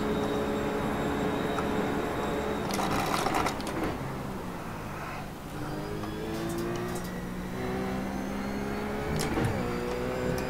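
A car running a lap at speed near 150 in a racing game, with a steady engine drone and rising, shifting whine, plus a few sharper mechanical bursts along the way.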